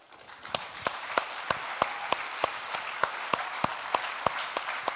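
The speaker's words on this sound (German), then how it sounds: "Ein großer Applaus für das Verspätungsorakel" A small audience applauds at a youth hackathon event in Munich, with several distinct sharp claps in an even, regular rhythm standing out over a softer bed of scattered clapping, moderately close.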